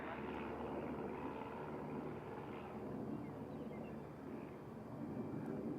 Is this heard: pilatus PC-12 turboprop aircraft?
yes